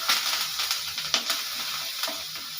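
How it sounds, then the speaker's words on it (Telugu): Green chilli paste, curry leaves and turmeric sizzle steadily in a hot pan for a Kadapa-style lemon rice, a close, continuous hiss broken by a few sharper crackles and stirring scrapes, with no voices. "ఇప్పుడు పచ్చిమిర్చి పేస్ట్ అన్నీ కూడా బాగా వేగినాయి."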